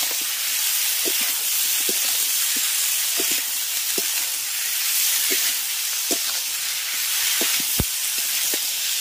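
Winter vegetables sautéing in a pan with turmeric and ginger paste give off a continuous, even hiss, broken by soft scattered pops and light ticks of stirring.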